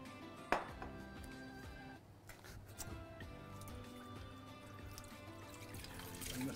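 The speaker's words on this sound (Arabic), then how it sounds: "نغسل الكاسه" Tap water runs quietly into a sink while a bowl is washed, with faint drips and light clatter in a home kitchen during meal prep.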